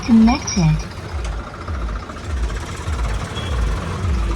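A Swaraj 744 tractor idles in a steady, low, pulsing chug, near and constant, while someone briefly talks at the start.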